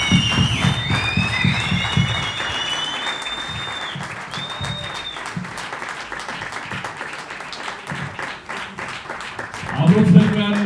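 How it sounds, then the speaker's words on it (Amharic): Warm applause and scattered cheering from an audience welcoming artists Teodros Teshome and Yoni Vegas at an event honouring Samson Mamo, dense clapping throughout with a voice speaking over it and a louder burst near the end. "እባካችሁ አሁንም በድጋሚ ሞቅ ያለ ጭብጨባ።"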